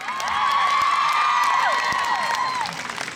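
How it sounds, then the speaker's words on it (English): An outdoor crowd at an abortion-rights rally applauds and cheers loudly for a few seconds, with clapping and whoops blending into a continuous roar. "Give a round of applause to all men that support women"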